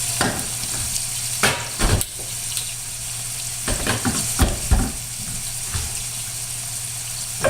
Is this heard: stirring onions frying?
yes